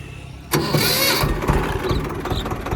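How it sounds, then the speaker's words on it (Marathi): A farm tractor used for rotavator work cranks and fires up with a sudden loud start, then settles into a steady, chugging diesel idle close by. "एवढा मस्त ट्रॅक्टर चालतोय"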